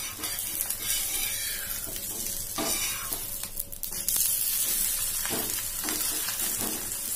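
Wheat flour dosa sizzles in oil on a pan over a high gas flame, a loud, continuous crackling fry with occasional scraping and clinks of a utensil against the pan.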